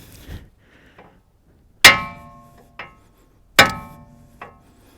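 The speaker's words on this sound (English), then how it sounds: "I'm going to start with a brass hammer" A brass hammer delivers shock hits to the side of a ball joint on a 1992-2000 GM 4WD K truck: two loud metallic clangs with ringing decay, each followed by a lighter tap, amid a few faint knocks.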